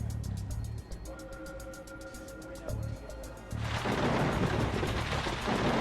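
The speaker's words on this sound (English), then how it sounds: "There was a storm coming in from the east." Thunder from an approaching storm near an airport: a low, distant rumble swells into a broad, heavy roar of thunder and rain in the last seconds, with a faint steady tone underneath earlier on.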